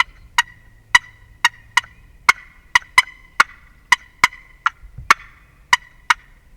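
A handheld turkey call works through a steady run of about thirteen sharp yelps, each breaking from a high note down to a low one. The calls are evenly spaced, close and clear, imitating a wild turkey with no talk.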